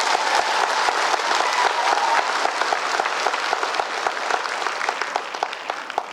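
Steady, loud applause from a gathered crowd, dense clapping sustained throughout with no break.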